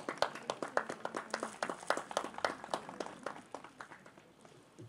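Applause greets the Gyeongju city council chairman as he rises to give congratulatory remarks at a memorial hall opening ceremony, a small group clapping in quick, distinct claps that gradually thin out and fade.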